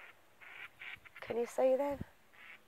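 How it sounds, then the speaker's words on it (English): Ducks quacking and calling as a small group of three flies off together outdoors, a short burst of calls in the middle with a person speaking briefly around them. "Oh, look at these ducks."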